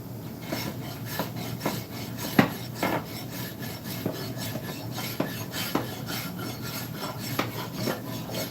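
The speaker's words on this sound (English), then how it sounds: "I really like going up the grain when it comes to using a rasp and trying to taper a handle" A wood rasp tapering a handle, worked up the grain in repeated gritty rasping strokes with occasional sharper scrapes, close and fairly loud, in an uneven rhythm with no talking.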